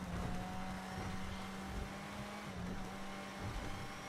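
Tires squeal in a racing video game, a sustained tonal screech running over a steady engine drone, loud and continuous with a brief break near the end.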